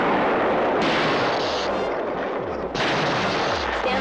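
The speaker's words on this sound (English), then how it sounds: "Stand by for impact of enemy phaser." Sci-fi phaser and torpedo fire effects from a 1980 space film, with a few loud, booming blasts that each hit with a sharp crack and sustained rumble, following one another closely with no voices.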